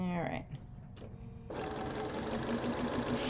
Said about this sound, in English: when you're sewing this is basically attaching it